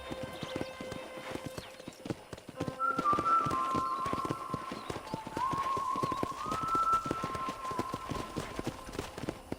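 Horse hooves clip-clop near a ranch corral in Red Dead Redemption, a steady run of close taps under a game music bed with melodic tones, and a brief whinny.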